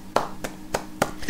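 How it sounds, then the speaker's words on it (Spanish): One person claps their hands four times in a quick, even rhythm, close and distinct, during a relaxed Spanish conversation. "Te aplaudo."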